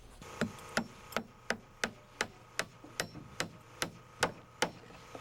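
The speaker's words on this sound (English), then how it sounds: "it's nice to have help when you're nailing off a floor by hand. The small hammer works" Hand hammer driving nails into a wooden floor, about fourteen sharp, evenly spaced strikes in a steady rhythm, close and clear with no talking.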